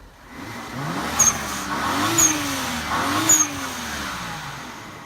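A car engine revs three times, each rev ending in a sharp turbo blow-off whoosh and hiss, close and loud over a steady idle.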